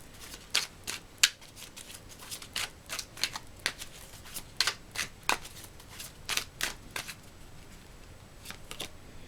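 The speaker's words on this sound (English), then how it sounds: "Okay, let's get a tarot card." Tarot cards being shuffled by hand in a quiet room, a run of crisp papery riffles and flicks arriving in irregular bursts, close and fairly soft, with no talking.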